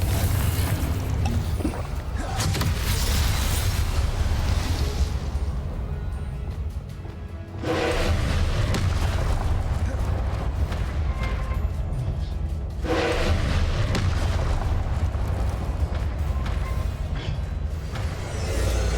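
A Confringo spell explosion in the Hogwarts Legacy video game, heavy booming blasts with crashing debris and rumbling low end, bursts recurring several times amid a continuous loud game soundscape.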